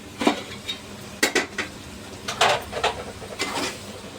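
A plate is lifted off a pot of boti gujju curry, with a few close metallic clinks and clatters against the pot and faint sizzling in between.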